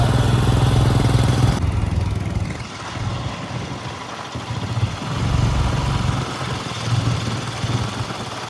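A motorcycle rides standing up through a glacier meltwater stream crossing between muddy slopes on the Nubra Valley to Pangong Lake route, its engine a steady close rumble mixed with rushing water.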